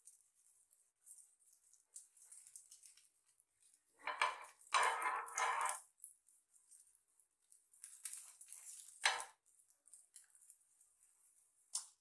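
A metal spatula scrapes and clatters against a pan while a grape and cabbage cheela cooks in ghee and gets flipped, with bursts of scraping and clinks between quieter gaps and no talk.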